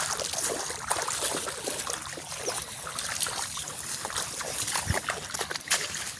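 Water trickles and sloshes through an irrigation channel in a farm field, a steady close wash of flowing water with scattered splashy bursts and no talking.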